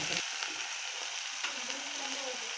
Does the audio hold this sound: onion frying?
yes